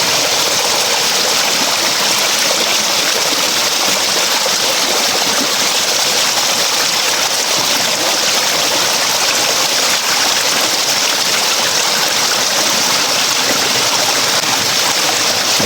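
Water flows steadily along a once-dry creek bed, a continuous broadband rush like a running stream, close and loud, with no voices and no pauses throughout.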